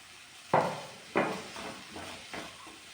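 Chopped potatoes drop into a pan of frying onion, ginger and garlic for a vegetable kurma, giving a few sharp clattering hits that fade into a soft, steady sizzle close by, with no voices.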